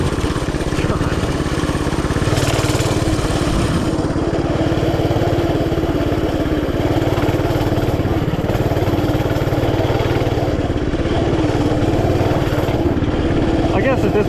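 Coleman CT200U mini bike engine, due for an oil change, running steadily on a trail, a loud, continuous rattling small-engine drone from close by, with someone talking over it.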